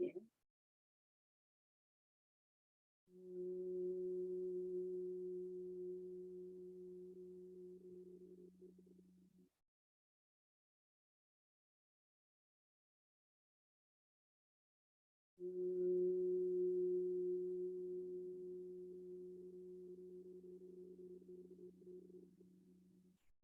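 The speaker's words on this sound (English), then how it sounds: "I'm going to take a couple of humming breaths here." Two slow humming breaths during chair yoga, each a steady low voiced hum lasting about six to eight seconds and gradually fading, separated by a long quiet pause.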